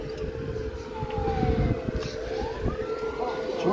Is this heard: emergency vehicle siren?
yes